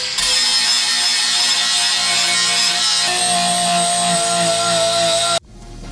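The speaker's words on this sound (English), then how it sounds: "I sharpen my mower blades with a flap disc to avoid building too much heat." Mower blades being sharpened with a flap disc on a grinder: a loud, continuous high-pitched whine with a grinding rasp, holding steady for about five seconds before cutting off abruptly.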